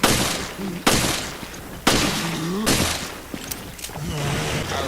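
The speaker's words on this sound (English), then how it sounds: "only 5 shots from Parker's government handgun to take down a standard ooze" Three sharp handgun shots from Parker's government handgun in the video game Resident Evil: Revelations, fired at a standard ooze, each a loud crack with a decaying tail, spaced about a second apart over game ambience.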